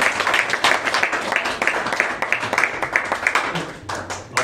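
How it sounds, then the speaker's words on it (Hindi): Audience applause at a theatre festival, a dense patter of many hands clapping, steady and moderately loud across the whole stretch with no speech over it. "तालियां इतनी बजा रहे हैं।"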